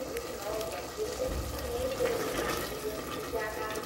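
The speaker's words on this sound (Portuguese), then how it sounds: "eu vou colocar o creme de leite" Cream pours into a thick chicken stroganoff sauce in a pan, a steady, close liquid gush and bubbling that runs without a break for several seconds.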